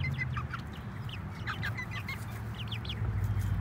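Backyard chickens scratch in the dirt inside a chicken tractor, letting out short repeated clucks and chirpy calls at a close, moderate level over a low steady background hum.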